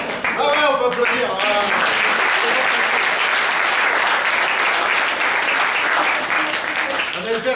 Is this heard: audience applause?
yes